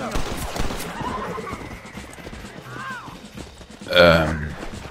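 A horse whinnies and hooves clop amid Red Dead Redemption video game sounds, with a louder, close neigh near the end.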